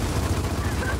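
Rapid video game gunfire crackles in a quick burst of shots, loud and close, filling a short moment under a tense match.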